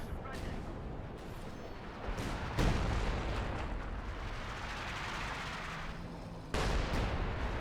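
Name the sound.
Sexton artillery barrage in video game Company of Heroes 2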